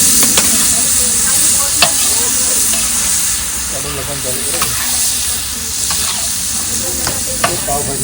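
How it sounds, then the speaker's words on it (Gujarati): Loud continuous sizzling as chickpeas fry in hot tempering in a pan, with occasional stirring scrapes and clinks throughout. "તડકાની પર છોલે નાખી દીધા છે"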